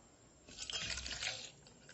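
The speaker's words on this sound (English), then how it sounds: "Now I am going to pour this in a bowl." Churned malai butter, thick and wet, pours from a vessel into a bowl, giving a soft, sloshing liquid gurgle that swells for about a second and then tapers off, heard up close with no talk.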